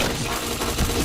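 Gunfire in a shooting video game, a brief rapid burst of automatic shots, loud and dense.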